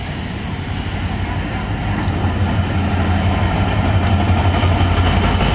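Benapole Express train entering Dhaka via Gendaria, passing close by with a steady, loud rumble of wheels and engine that holds constant throughout.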